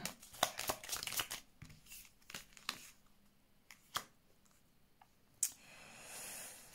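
Tarot cards drawn from a deck and laid down, a run of quick crisp card clicks and shuffling flicks up close, then a few isolated sharp snaps as cards are placed, ending in a soft rustle.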